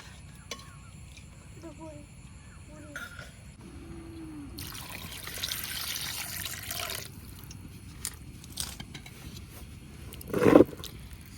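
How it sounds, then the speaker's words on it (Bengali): Chicken liver being rinsed with plenty of running water, a soft trickling and splashing that swells into a steadier gush midway, with a louder splash near the end, over low background noise. "কলিজাগুলারে এখন আমি আবারও ভালো করে পানি দিয়ে, বেশি পানি দিয়ে ওয়াশ করে নিলাম।"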